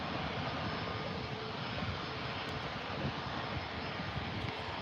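An aircraft at Manchester Airport roars steadily and loudly for the whole stretch, a broad, even engine rumble with no pauses and no voices over it.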